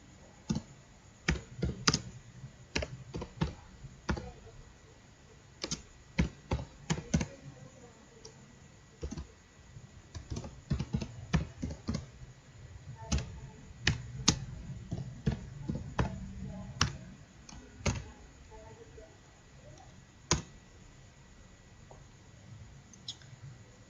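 Java code being typed on a computer keyboard, bursts of sharp clicking keystrokes with pauses between runs, fairly close and alone, with a faint steady hiss behind.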